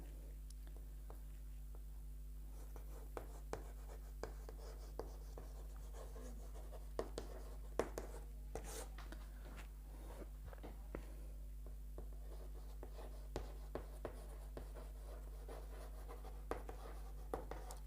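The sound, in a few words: writing a chart on a board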